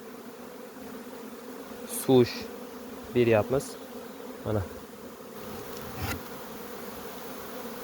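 Honeybees hum around an open hive box in a low, continuous buzz. Several louder passes come close by, one after another, and someone speaks briefly over the buzzing.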